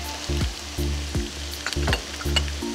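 Chopped shallots frying in oil in a pan, with fish masala being made: loud, close sizzling that bursts up in several repeated surges as the shallots are added and stirred, with faint scraping in between.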